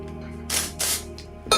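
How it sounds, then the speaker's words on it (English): Hairspray from an aerosol can hisses onto a curl in two bursts of about a third of a second each, close and fairly loud, then a third burst begins right at the end. "grab more hairspray"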